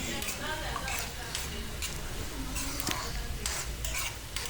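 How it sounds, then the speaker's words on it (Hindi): Finely chopped onion frying in oil in a kadai for chicken claw curry, with a constant sizzle broken by repeated sharp scraping strokes of the stirring spoon, close and fairly loud. "अब इसमें बारीक कटा हुआ प्याज शामिल कर दूंगी।"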